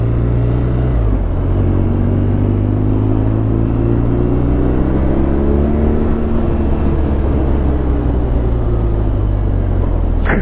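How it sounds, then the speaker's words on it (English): A BMW R9T motorcycle rides at speed, its engine a loud steady rumble with gliding pitch shifts as it changes gears, under continuous road and wind roar, with no talking. "I can hear them tires howl"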